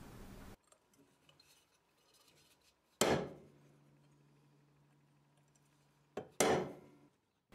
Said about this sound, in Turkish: Kabza pim deliklerimiz için nokta vurup işaretleme de yapıyoruz.